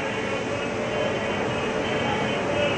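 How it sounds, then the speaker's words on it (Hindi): A Mumbai–New Delhi Duronto express train runs along the track near Kota, giving a steady, loud rumble of wheels and carriages with faint clatter and no clear speech. "ट्रेन एक नंबर चलते हुए आ रही है"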